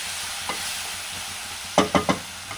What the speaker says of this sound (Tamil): ஒரு உருளைக்கிழங்கு கட் பண்ணி வச்சுருக்கேன் நம்ம அதை சேர்த்துக்கிறோம்